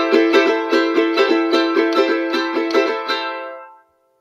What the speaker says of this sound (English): So I'm just going to play the second portion of the Huayno rhythm.